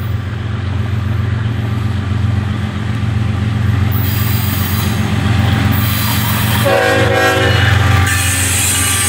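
An eastbound double-stack freight train with a single locomotive passes close by on a Saturday morning, with a loud continuous rumble of rolling cars, wheel squeal, and a sustained horn blast partway through.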